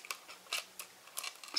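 Scissors carefully trimming excess material beside a repaired solar cell, a few quiet, crisp snips spaced out over a second or so, close and alone.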